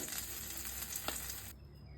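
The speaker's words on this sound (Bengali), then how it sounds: "পাবদা মাছগুলো সব ভাজা হয়ে গেল।" Pabda fish sizzle in hot oil, a soft continuous frying hiss with a sharp pop partway through, then cutting off abruptly.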